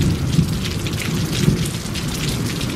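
Heavy rain pours steadily outdoors at a campsite during a thunderstorm, a dense hiss with low rumbling thunder rolling underneath and a few louder bumps, continuous and close with no voices.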